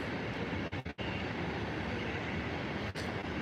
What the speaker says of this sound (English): So it's a potash train.